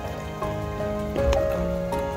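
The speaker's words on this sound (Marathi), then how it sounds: "खूप पाऊस पडतोय, हेवी रेन आहे इकडे आज." Heavy rain in a Konkan village patters steadily on surfaces nearby, a constant wash of drops with a few sharper splashes over a faint tonal hum.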